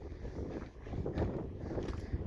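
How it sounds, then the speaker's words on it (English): Wind gusts buffet the microphone in a steady low rumble, rising and falling on a Colorado 14,000-foot mountain summit, Redcloud or Sunshine Peak, with no voices. "It is absolutely beautiful up here. A little windy, but not too bad."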